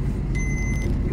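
A truck engine rumbles low and steady up close, while a faint high electronic tone sounds briefly in the middle. No one speaks.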